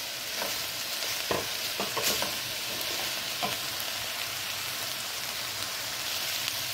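Broccoli frying in a pan with oil and salted vegetables, a steady close sizzle broken by scattered scraping clicks from stirring.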